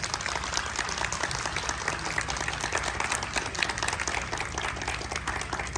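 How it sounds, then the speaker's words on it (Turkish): Audience at a Lifelong Learning Week program in Mersin applauds loudly and steadily, dense continuous clapping filling the room throughout. "Ben bu arkadaşlarım için sizlerden kocaman bir alkış rica ediyorum."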